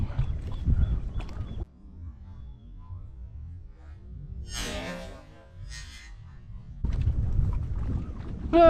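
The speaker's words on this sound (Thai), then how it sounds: "คลืนลมแรงมากเลยพี่น้องเลย" Gusty wind buffets the microphone in heavy bursts over water, with a softer stretch between where a brief voice is heard.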